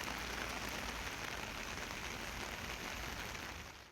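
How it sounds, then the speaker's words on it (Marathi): Heavy monsoon rain pours steadily over the Vikramgad area of Palghar. It makes a dense, even hiss of downpour that holds constant and close, with no voices. "विशेषतः विक्रमगडसह या परिसरात मुसळधार पाऊस सध्या त्या ठिकाणी सुरू आहे।"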